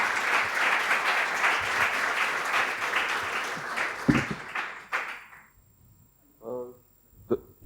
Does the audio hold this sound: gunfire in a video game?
no